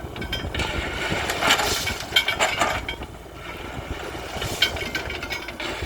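An excavator's engine runs steadily while its bucket unloads gravel, a rough mechanical drone with scraping, rattling bursts of stone on top, heard at moderate distance.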